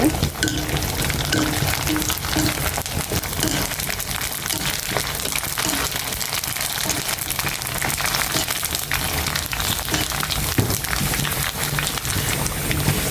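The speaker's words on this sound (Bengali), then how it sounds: "ফুচকাটা ভেজে নিচ্ছি" Fuchka puris deep-fry in a pan of hot oil, giving a dense, continuous crackling sizzle that stays loud and even throughout, with bubbling and occasional stirring.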